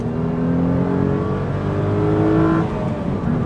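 A Renault Clio V6 engine revs loudly and close up toward just under 7,000 RPM, its steady roaring drone climbing slightly in pitch before easing off near the end.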